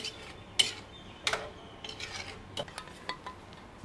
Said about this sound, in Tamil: ஊற்றிட்டு நல்லா மிக்ஸ் பண்ணிடலாம்.